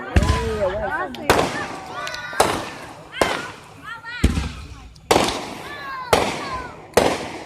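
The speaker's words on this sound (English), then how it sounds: "I'm at the fireworks, and this is like lit" Fireworks burst overhead in a series of about seven loud, sharp booms spaced roughly a second apart, each trailing off in crackle, with excited voices shouting and whooping between and under the blasts.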